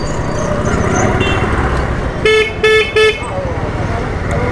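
A vehicle horn on a city road during a bike taxi ride gives three short honks in quick succession over continuous loud traffic and engine rumble.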